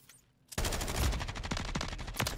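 Sustained automatic fire from a light machine gun in Modern Warfare 3, loud and close, following a short quiet lead-in, with rapid rattling shots and a few sharper cracks standing out.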